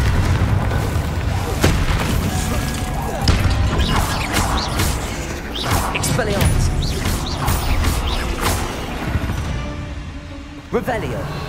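Bombarda and Confringo spells explode one after another in the Hogwarts Legacy video game, a run of heavy booms, crashes and crackling impacts mixed with other game effects, with a voice speaking over parts of it.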